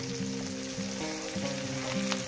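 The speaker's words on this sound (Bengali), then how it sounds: "মাছগুলোকে আমি একটু লাল লাল করে হালকা লাল লাল করে ভেজে নেব" Small river fish fry in hot oil, giving a constant crackling sizzle, with a steady tonal hum beneath and no one speaking.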